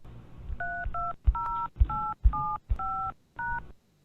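Telephone keypad DTMF tones are pressed one after another to enter a voicemail passcode. There are about seven short, clear beeps at an uneven pace, each with a soft button click, and there is no talk.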